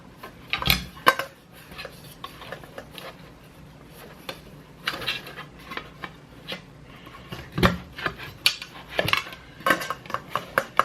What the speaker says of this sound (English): And of course your frying pan goes on top.